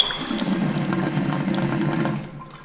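Water runs steadily from a restroom sink faucet at Roper Lake State Park, Arizona, a close, continuous hiss and splash that cuts off near the end.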